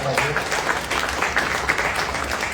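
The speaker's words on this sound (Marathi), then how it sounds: "जोरदार टाळ्या झाल्या पाहिजे" Audience applause at a big Star Pravah television launch event, a dense, steady wash of clapping filling the whole stretch, with faint voices mixed underneath.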